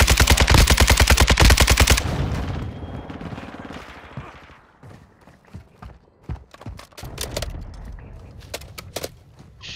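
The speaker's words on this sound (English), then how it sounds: "Another team shooting them now" Rapid automatic gunfire from another team in the Warzone video game, loud and continuous for a couple of seconds, then scattered single shots and distant bursts trailing off.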